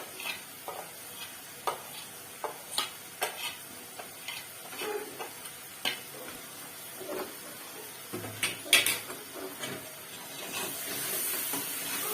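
Spices and sugar fry softly in oil for a yam and prawn curry, with a faint steady sizzle broken by repeated sharp spatula scrapes and taps on the pan.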